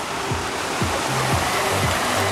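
At a Greek family resort on the Peloponnese, water flows like a brook over rocks in a water feature, giving a constant, close rushing hiss with faint, brief tonal chirps behind it.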